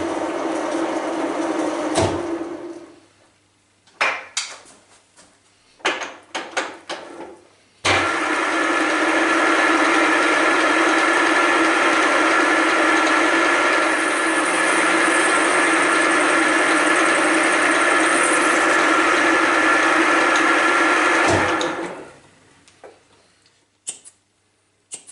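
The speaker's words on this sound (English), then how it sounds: "that the end mill is not gonna grab in the bottom of this hole here, I locked the quill and I will feed up with the table." A Deckel milling machine drives an end mill into a hole while the table feeds upward, a loud steady cutting drone lasting about fifteen seconds, preceded and followed by clicks and machine clunks as it starts and stops.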